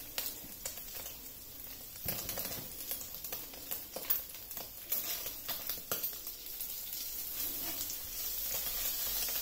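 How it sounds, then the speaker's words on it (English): Pork chop fat rendering in a frying pan, giving a steady close sizzle with crackling pops and spits that grows slightly louder toward the end, with no talking. "I'm going to render that fat on the side a bit down"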